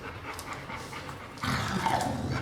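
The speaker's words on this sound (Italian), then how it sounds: "Cane puzzoso." A dog pants in quick, rhythmic breaths close by, at a moderate level, with the panting growing a little louder partway through and no talk over it.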